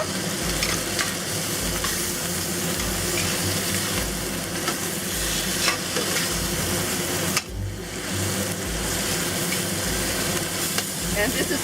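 Prawns and green onions stir-fry in a hot wok with steady loud sizzling and rhythmic scraping tosses of the spatula, close and continuous throughout.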